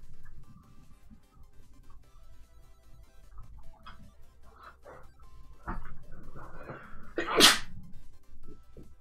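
A single sharp sneeze breaks out near the end amid faint scattered background noises, close and loud against an otherwise quiet room.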